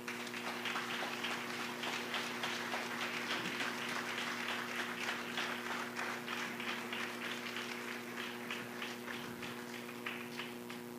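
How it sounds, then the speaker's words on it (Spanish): A church congregation applauding during a sermon, dense continuous clapping from many hands that holds steady over a sustained droning hum, fading slightly toward the end. "Denle un fuerte aplauso al Señor"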